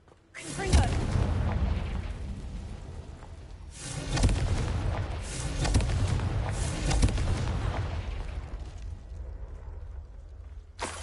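Booming explosions from the Confringo blasting spell in the Hogwarts Legacy video game burst out several times in a row, loud, near and rumbling, with game sounds and a voice mixed in.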